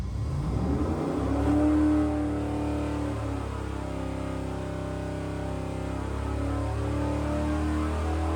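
Junkyard 4.8L V8 engine, modified for high output, revs hard on a dyno toward a 7,600 RPM limit, a loud, steady rising roar with harmonics climbing and holding over several seconds.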